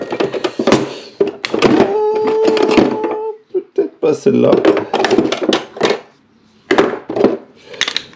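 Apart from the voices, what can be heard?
rummaging through tool drawer searching for clip pliers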